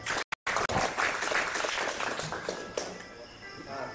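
Applause from an audience at a photo critique session, dense clapping running steadily after a brief cut near the start, fairly close and sustained to the end.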